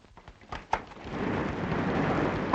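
Scattered raindrop taps build into a steady roar of rain, with a rumbling thunder-like swell rising underneath and no talking.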